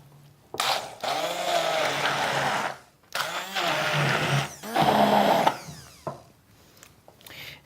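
A food blender whirs loudly through a mushroom and walnut mixture in several long bursts separated by short pauses, the motor pitch shifting as the contents break down.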